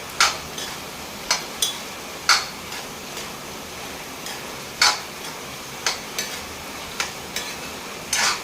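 Soya chunks are mixed in a pan on the stove, with sharp spoon taps and scrapes against the pan coming every second or so over a steady low sizzling hiss, and no voices.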